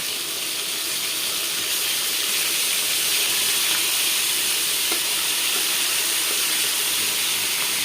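Chicken pieces frying in a pan for a wedding-style chicken roast, a loud, continuous close-up sizzle with bright hiss and occasional faint pops, no voices.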